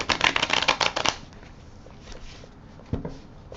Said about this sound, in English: I'm going to shuffle the cards, rifle them one more time